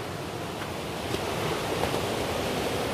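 Krimml Waterfalls in Austria send down rushing water as a dense, continuous roar that stays loud and unbroken throughout, with no voices.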